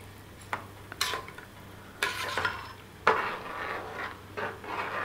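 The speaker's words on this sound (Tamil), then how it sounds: "ஹையில் வச்சுக்கிட்டு இதை கிண்டணும்." Jeera samba rice being stirred in a pan on high flame, with scattered spoon scrapes and knocks against the pan over a low sizzle, close and fairly quiet, no talking.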